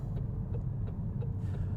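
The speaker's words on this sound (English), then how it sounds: "The old clunky Iveco truck indicator." Inside an old Iveco truck, the turn indicator ticks in a steady rhythm of about five clicks over a low engine rumble, close and moderately quiet.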